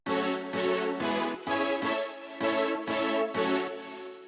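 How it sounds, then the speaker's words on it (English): Pumping electronic piano and synth chords with a bright, buzzy tone, sidechained so they rhythmically duck in short repeated bursts, loud and dense with no voices. "I added in some chords to follow along with the main melody"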